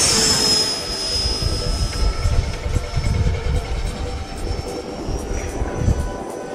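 An F/A-18 Hornet jet flies a power loop overhead, and its engine gives a loud, continuous roar that rises and falls slightly as it moves, with a high whine fading early on.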